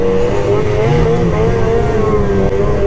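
An 858 Catalyst RXC snowmobile engine revs hard and steady nearby on a solo trail run, its loud, continuous whine rising and falling slightly in pitch with no pauses or talk.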